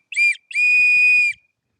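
A flat, low-profile colored safety whistle gives two shrill, piercing blasts, a short one followed by a longer sustained one, loud and close with nothing else heard.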